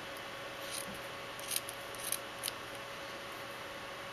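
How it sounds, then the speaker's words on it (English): Small scissors snip paper for a favor box bunny craft, with a few faint, quick cuts in a quiet room over a soft background hiss. "just cut a little sliver here"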